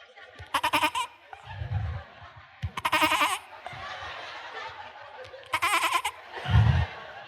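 A voice imitates a baby goat bleating: three separate bleats spaced a few seconds apart, with low murmuring and laughter from a gathered audience between them.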